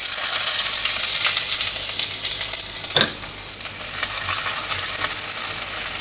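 Chopped garlic and ginger fry in hot oil in a wok, a loud, close, continuous hiss with a brief stir-clink partway through and the crackle settling slightly afterward.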